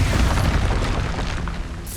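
An Expulso blasting spell in Hogwarts Legacy detonates as a deep, loud boom, rumbling heavily and fading over about two seconds.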